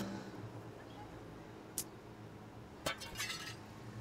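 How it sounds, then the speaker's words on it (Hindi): Glass window smashed with a thrown box in the Hello Neighbor video game: two quiet, sharp shattering cracks about a second apart, the second trailing into a brief tinkle, over a low steady background. "इस बॉक्स को उठा के शीशे को दे देंगे ताकि शीशा तोड़"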